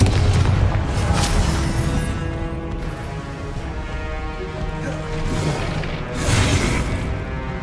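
Fiery Confringo spell blasts in the Hogwarts Legacy video game, a loud booming explosion near the start and another swelling blast near the end, over dense rumbling game effects and music throughout.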